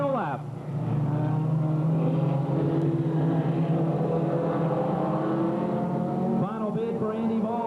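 Race cars roar around an oval track on the final lap, coming off turn four toward the white flag, a steady dense engine drone with a rising pitch shift near the end as cars pass, under an announcer's commentary.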